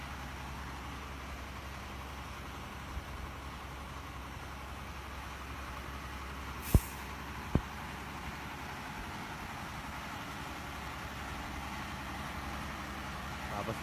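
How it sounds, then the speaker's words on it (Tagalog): A truck engine idles low and steady while it pumps diesel out of a 40,000-liter tanker, a constant close drone broken by two sharp metallic clicks partway through. "Walang bomba kaya yung isang truck ang nagbubomba."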